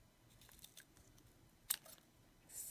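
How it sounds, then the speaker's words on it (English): Scissors snip little paper strips for a handmade stamped card, a few quiet, close clicks and one sharper cut in an otherwise hushed room. "Let's cut. some little strips here."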